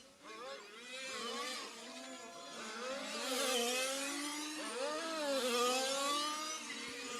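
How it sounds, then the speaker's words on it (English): Large-scale RC racing cars accelerate down the front straight at a Queensland on-road championship, their engines wailing and rising in pitch in repeated overlapping sweeps, loud and close, as several cars power past in succession. "So you can just really hear these cars putting the power down."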